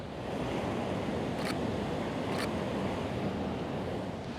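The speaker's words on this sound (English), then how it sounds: "Can't get very close because obviously these waves are pretty mean" Ocean waves crash and surge in a continuous heavy roar, with two brief sharp hissing bursts partway through.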